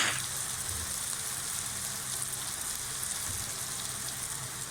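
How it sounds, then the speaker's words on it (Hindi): Vegetables for fried rice sizzling in a hot pan, a steady, faint hiss and crackle that continues evenly throughout with no speech. "अब ये हमारी सब्जियां जो हैं फ्राई हो गई हैं अच्छे से, थोड़ी कच्ची थोड़ी पक्की।"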